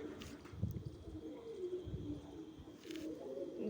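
Soft, low pigeon coos repeat a few times against a faint background hum, with a couple of brief chirps in between.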